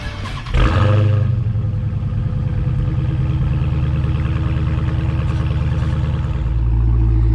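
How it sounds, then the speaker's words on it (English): A Dodge Charger Hellcat engine cranks and catches with a sharp bark, then settles into a loud, steady, rumbling idle close by, rising slightly at the end. "Now let's hear a little startup of the Hellcat."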